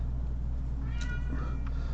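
A pet cat meows to be fed indoors, a couple of short, fairly faint meows rising over a steady low household hum, with no talking.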